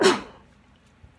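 A single sharp sneeze bursts out loudly at the start and quickly fades away, leaving near silence.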